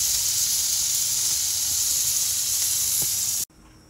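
A bone-in ribeye steak flipped in a hot pan gives a loud, steady, close sizzle that continues unbroken for several seconds and then cuts off abruptly.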